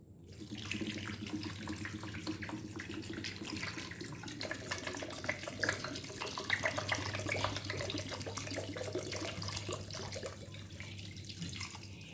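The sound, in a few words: water being poured into a pot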